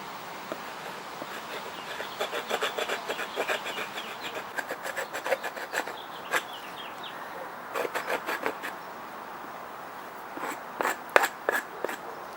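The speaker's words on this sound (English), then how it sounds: "So this on the bottom is propolis. So I usually scrape it off." A tool scrapes propolis off the underside of a small rendered beeswax disc in quick bursts of short rasping strokes with pauses between, close and fairly quiet, and no one talks.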